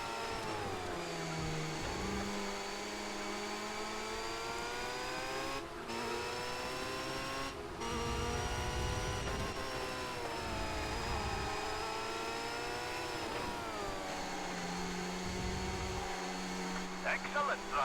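Monster truck racing in the video game TOCA Race Driver 3, a whining engine drone with shifting pitch that climbs and falls over several gear changes, steady and loud for the whole stretch, with a few short dropouts.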